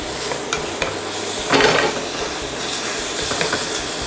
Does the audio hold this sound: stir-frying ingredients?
yes